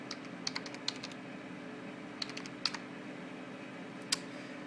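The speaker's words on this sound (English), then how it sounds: "I'm going to type in depression." Keys on a computer keyboard are tapped in a faint, sparse scatter of light clicks, a few quick strokes at a time over a steady room hiss.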